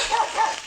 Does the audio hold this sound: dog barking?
yes